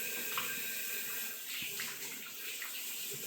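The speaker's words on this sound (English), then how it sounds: "I'm going to wash my hands one more time." Tap water runs steadily into a kitchen sink while oily hands are rinsed underneath, a soft continuous splashing hiss heard up close with no talking.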